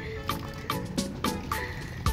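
Water from a drinking fountain in Parque Cuscatlán falls in a quick series of close drips and trickling splashes, about five evenly spaced plops in a couple of seconds.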